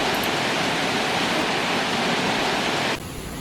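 Gillis Lake Falls on Cape Breton Island, Nova Scotia, roars as a loud, steady rush of falling water close by. The sound drops abruptly near the end to a quieter wash.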